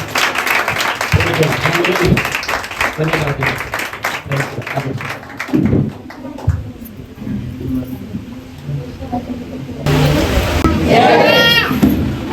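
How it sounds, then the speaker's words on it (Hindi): Church congregation clapping to welcome the preacher, rhythmic hand claps mixed with voices and background chatter, with a louder burst of clapping toward the end. "क्यों ना हम ताली बजा के और प्रभु के दास का स्वागत करते"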